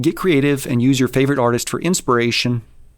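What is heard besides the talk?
No everyday noise stands out behind the speech.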